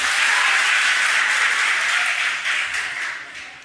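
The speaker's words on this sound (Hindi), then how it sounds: "एक बार जोरदार तालियां हो जाएं।" An audience at a college event breaks into loud, sustained applause, a dense wash of clapping that holds steady and then gradually thins and fades toward the end.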